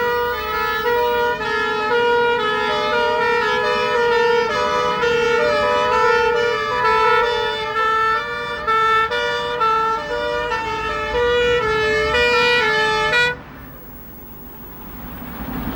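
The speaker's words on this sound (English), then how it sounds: "A command vehicle, hydraulic platform and pump engine respond to a call." Fire engine sirens from a responding command vehicle, hydraulic platform and pump engine, loud two-tone wails cycling steadily for about thirteen seconds before cutting off abruptly, leaving quiet road noise.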